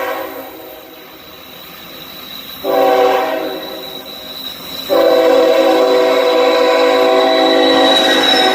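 K5HL horn on a passing GEVO locomotive, sounding two loud, sustained chord blasts, the second longer, over the rumbling rail noise of the moving train.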